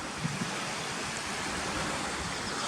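A beck runs down through rocks beside a road in the Yorkshire Dales, flowing under the road toward the River Swale, giving a steady, broad rushing wash that holds even and unbroken throughout with no voices.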